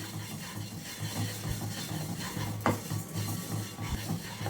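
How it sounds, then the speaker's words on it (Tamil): Coriander seeds, about two hundred grams, dry-roasting in a pan give a soft, steady scratchy rattle and faint sizzle, close and low, with one brief sharper clink midway and no talk. "இரநூறு கிராம் மல்லி வறுக்கிறேன் நான்"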